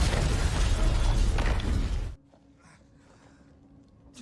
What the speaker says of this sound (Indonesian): Untungnya, Jack berhasil selamat dari ledakan tersebut, namun Zoe, Tom, dan John mengalami luka par